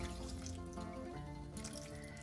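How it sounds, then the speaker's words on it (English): Water streams into a pot of Thai coconut milk shrimp curry, a soft, steady pour with light splashing, quiet and unbroken, with no talking. "Now I have to add water"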